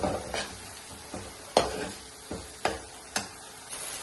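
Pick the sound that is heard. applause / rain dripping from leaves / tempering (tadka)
tempering (tadka)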